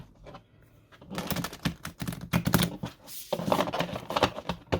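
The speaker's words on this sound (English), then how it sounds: "We're going to try to shuffle this. This is really a really huge deck." A large oracle card deck is shuffled up close, with quick crisp riffling and papery slaps in bursts, loud and without talk.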